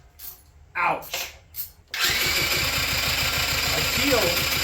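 A quad with a no-start fault cranking over on the starter with fuel added to the cylinder: a rapid, rhythmic mechanical churning that runs steadily for several seconds after a few short voice sounds, without catching.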